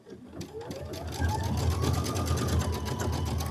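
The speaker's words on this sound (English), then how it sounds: "stitch out your other flourish" An embroidery machine stitches out a flourish design, its steady rapid needle rhythm running continuously and growing louder, with a voice talking faintly over it.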